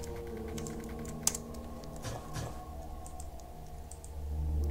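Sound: keyboard typing in video game TRTF: The Storyteller's Son

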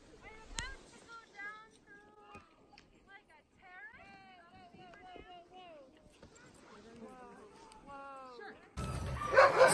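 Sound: sled dogs barking and whimpering at dogsledding lodge

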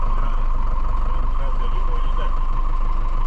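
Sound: loader tractor engine revving

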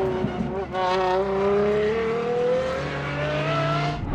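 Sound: Apollo IE naturally aspirated 6.3-liter V12 engine accelerating

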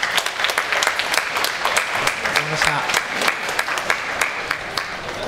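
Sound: audience applause at a judo tournament

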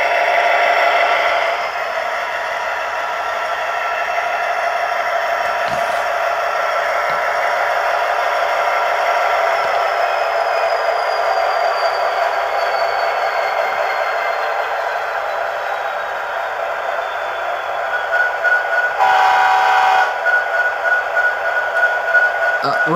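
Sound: model locomotive sound system running

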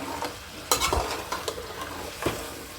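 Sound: stirring mango raita with jaggery and salt

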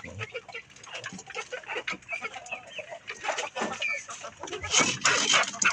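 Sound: young pullet hens clucking on a farm

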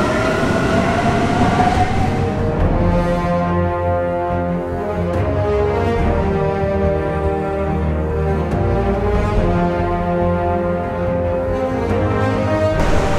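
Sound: metro train in Rome

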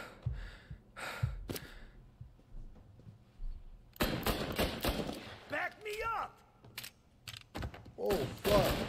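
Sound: gunfire in the video game Mafia Definitive Edition

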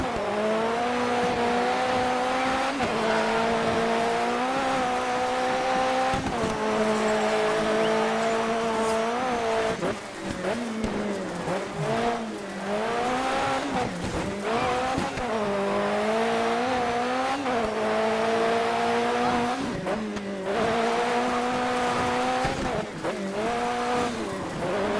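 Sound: tire squeal of rally car in Dirt 3 video game

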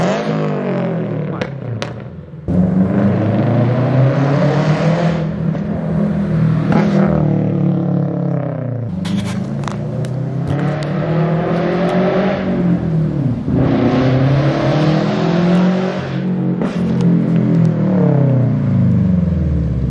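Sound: Subaru BRZ with UEL header and Tomei exhaust driving

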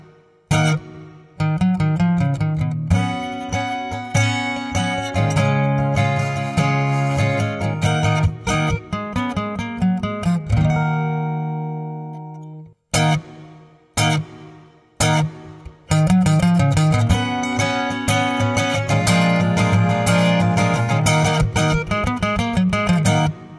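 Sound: acoustic guitar playing the finale of a song

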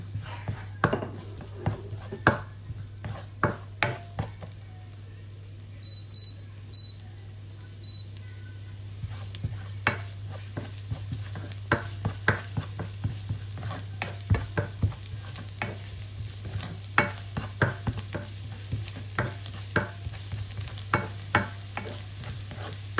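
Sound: garlic sautéing in a pan

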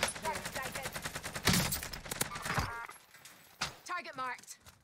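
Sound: gunfire in the video game Call of Duty Warzone, Verdansk

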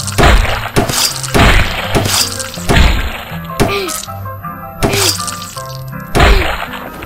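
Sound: beating with a flashlight in a video game

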